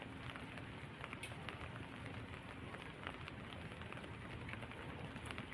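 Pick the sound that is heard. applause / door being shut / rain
rain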